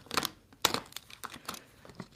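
A blade cuts leather vinyl wrap near the hinges of a gun safe, giving close crinkling and tearing rasps in short irregular bursts with small gaps between them.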